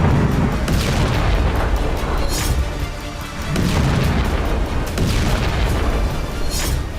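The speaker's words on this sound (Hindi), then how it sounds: "लेबनान की राजधानी धमाके से दहल उठी" A large explosion in Lebanon's capital city, Beirut, heard as a continuous heavy booming roar with rumbling low end and broadband crackle, sustained for several seconds with slight dips, no voices present.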